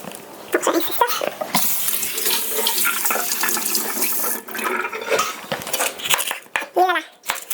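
A bell pepper is rinsed under a running kitchen tap while making a vegetarian chili, giving a steady close splashing stream of water that continues for several seconds with small clatters near the end.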